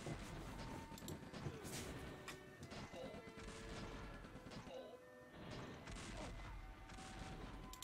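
Rapid tank gunfire and crashing impacts in the Age of War video game, dense and continuous, with repeated bursts layered over a steady loud battle din and no talk.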